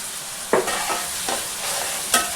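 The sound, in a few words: stirring onion, green chilli and curry leaves frying in oil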